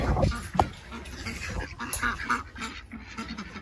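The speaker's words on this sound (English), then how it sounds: "The ducks, oh my gosh, these ducks." Several ducks quacking close by, loud and overlapping in short bursts, with some other animal noise mixed in.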